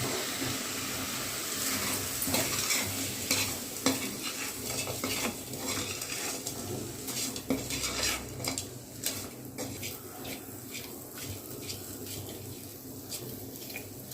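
Spices with turmeric and rock salt sizzling in a pan while a utensil scrapes and clacks against the metal in a busy, uneven stirring rhythm.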